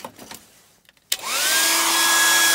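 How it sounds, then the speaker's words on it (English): An air dryer blower kicks on after a few soft knocks and handling sounds, spinning up with a rising whine into a loud, steady whirring roar. "Right, plug the air dryer in"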